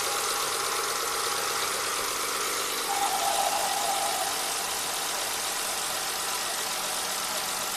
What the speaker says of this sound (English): The engine really started to shake.